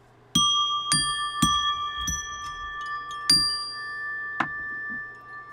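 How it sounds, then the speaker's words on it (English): Bright metal bells ring for an Arati ritual, a series of separate clear strikes whose high tones ring on and overlap, close by and fairly loud, with no talking over them. "Bells."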